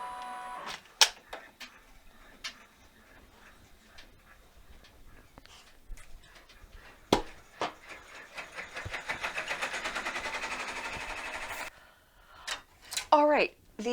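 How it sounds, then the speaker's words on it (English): A single-needle embroidery machine stitching an oval fabric placement line makes scattered clicks, then a quick mechanical rattle for several seconds before stopping, with a voice speaking nearby. "Alright, the oval line has been stitched, the placement line for our fabric."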